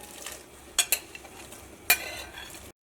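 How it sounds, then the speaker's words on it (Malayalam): Cut vegetables tipped into a pot of chicken soup and stirred, with a few sharp clinks of a utensil against the pot over a low background, no talk. "ഇതിലേക്ക് നമ്മൾ കട്ട് ചെയ്ത് വെച്ചേക്കണ വെജിറ്റബിൾസ് ഉണ്ടല്ലോ, ഇതൊക്കെ ഇതിലേക്ക് ചേർക്കാം"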